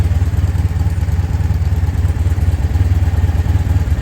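A 1984-85 Honda V65 Sabre motorcycle engine idles loud and close after a spark plug service, a steady throbbing rumble with even rapid pulses and a faint mechanical clatter, with no talk.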